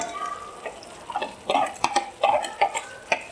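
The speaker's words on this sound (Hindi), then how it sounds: "अब इस दही को इसमें डाल देंगे।" Yogurt goes into chicken for biryani and is mixed in, with wet stirring and clinking of a spoon against a bowl in irregular bursts, close and moderately loud.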